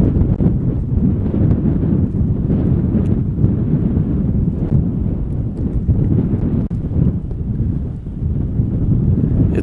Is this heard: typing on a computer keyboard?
no